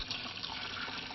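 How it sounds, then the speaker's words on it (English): Salt brine is poured over pickles, cucumbers and spices, making a brief steady splashing pour of liquid heard alone at moderate loudness. "I'm going to pour this over the pickles and the cucumbers and the spices."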